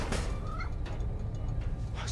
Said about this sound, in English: Just need to find Tails' cat.